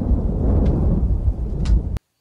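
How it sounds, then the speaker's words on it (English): A deep, rolling rumble of thunder fills the clip, low and heavy, then cuts off abruptly. "it began lightning and thundering"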